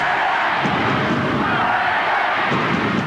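A stadium crowd chanting at a 1989 rugby league match between Canberra Raiders and Canterbury Bulldogs, a dense, continuous roar of massed voices heard from a distance with no clear breaks.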